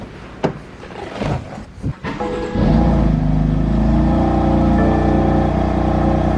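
A sports car engine with its exhaust removed idles with a steady, deep drone after a few short, rough bursts of revving at the start, loud and close.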